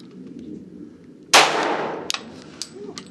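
A rifle with a 24-inch barrel fires a single loud, sharp shot through a chronograph, the report decaying over about half a second, followed by a few faint metallic clicks.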